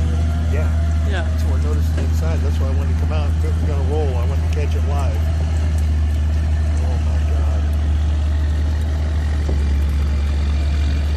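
A loud motorboat engine drones steadily throughout with a deep low rumble, while people talk and call out over it.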